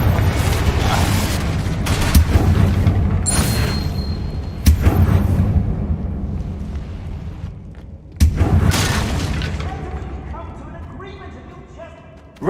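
Confringo explosion spells blast repeatedly in Hogwarts Legacy, three sharp heavy booms spaced a few seconds apart, each trailing off into a rumbling decay amid game combat sounds.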